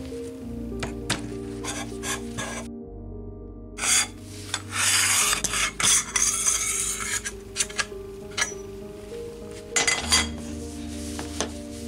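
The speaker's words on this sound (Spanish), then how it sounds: "Vamos a mostrar cómo se saca la funda para que lo veáis." Metallic scraping, rubbing and light clinking as the sleeve is worked off an Onyx Kron PCP air rifle, close and fairly quiet, with a steady low hum underneath and no talking.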